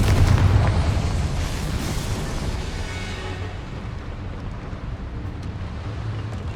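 A Confringo fire spell from the Hogwarts Legacy video game bursts as a loud, deep explosion at the start. Its heavy rumble then fades into a sustained, dull roar that lingers through the rest of the clip, with no talking.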